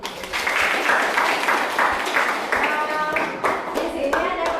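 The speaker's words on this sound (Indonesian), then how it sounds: "Terima kasih banyak, tepuk tangan dulu." Students in a classroom clap together in a short burst of group applause, dense and fairly loud at first, then thinning out, with some voices mixed in.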